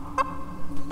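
A chicken in the VR fighting game Blade and Sorcery gives two short, loud clucks close up, one early and one at the end, with no speech.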